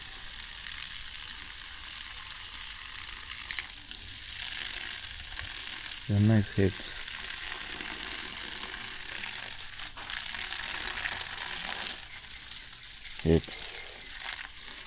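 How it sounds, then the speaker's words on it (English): Garden herbs are watered from a hose or sprayer, giving a steady broadband hiss that runs the whole time, with someone speaking briefly over it. "I go to water them."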